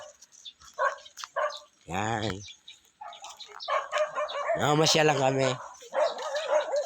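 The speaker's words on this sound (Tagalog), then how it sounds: "Galit na galit yung mga aso." Dogs in a rural Bicol village bark and yelp in two loud bursts, with people talking around and between them.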